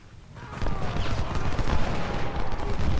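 Artillery and massed gunfire in the Ultimate General: Civil War strategy game, a dense continuous crackle of volleys and booms that swells after a quiet start and stays loud throughout, with faint voices mixed in.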